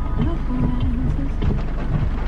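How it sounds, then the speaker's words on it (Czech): Dense, steady rain from Hurricane Dorian on Anguilla hisses across the whole moment with a low rumbling undertone, loud and close, with no voices. "Ale teda prší pěkně."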